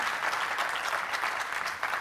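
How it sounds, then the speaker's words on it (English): Brief burst of audience applause at a pitching competition event, many hands clapping in a dense, fairly soft and even wash over two seconds. "A big applause"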